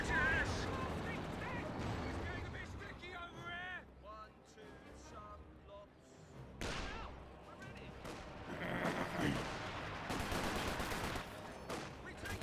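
Gunfire and artillery explosions from the Company of Heroes 2 strategy game, with bursts and heavy booms rising at intervals under a commentator speaking over the battle.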